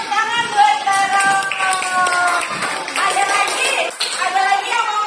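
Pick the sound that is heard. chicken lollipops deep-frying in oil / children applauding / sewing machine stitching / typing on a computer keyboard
children applauding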